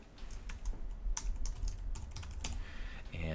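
Fingers type a project name on a computer keyboard: a quick run of close, crisp key clicks in an irregular rhythm, with no talking.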